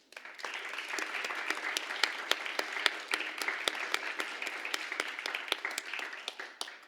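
Steady applause for the top achievers at a Grade 6 celebratory school ceremony, many hands clapping evenly with crisp individual claps standing out, sustained and moderately loud throughout.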